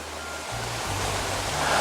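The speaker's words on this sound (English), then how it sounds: "I think this will be that small waterfall here." Small waterfall on the Bogle Burn in southern Scotland, a steady broadband rush of falling water with a low rumble, loud and continuous with no voices.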